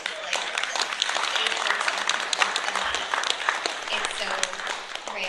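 Sustained applause from an audience at a community gathering, dense clapping holding steady and fairly close throughout with a few louder claps standing out.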